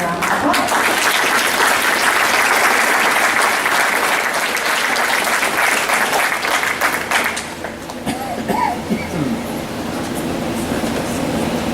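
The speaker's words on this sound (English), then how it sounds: "Let's give them a round of applause." Audience applause after students are introduced at a June school chorus concert: loud, dense clapping that fills the room for several seconds, then thins and fades.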